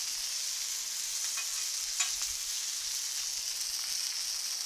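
Eggs frying on a Blackstone griddle give a steady, close sizzle with soft crackles throughout and one brief pop, no voices.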